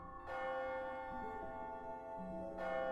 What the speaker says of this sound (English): Oh, the clock struck midnight.